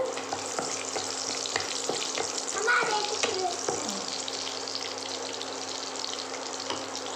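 Onions fry for a brinjal and potato kuzhambu, giving a steady, close sizzle with faint clicks of stirring throughout. There is no talking.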